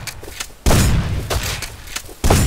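Loud, near gunfire bursts in the survival game Rust, as a headshot lands: sharp booming reports crashing in at the start and again near the end, with sustained blast-like noise between them and no talk.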